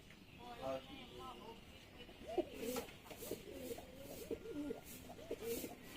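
Several pigeons coo in soft, repeated bursts from a flock being gathered for training flights, with light background noise and some faint voices nearby.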